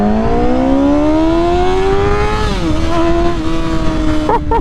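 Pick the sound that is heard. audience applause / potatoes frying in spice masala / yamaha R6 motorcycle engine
yamaha R6 motorcycle engine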